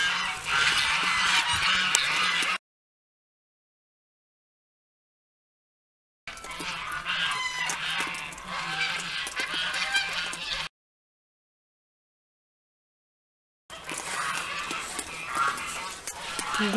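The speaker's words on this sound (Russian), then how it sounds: "Гуси раскричались у соседей." Geese honk loudly in bursts, several birds calling over one another, with gaps of silence between the bursts; fairly close, at a countryside home.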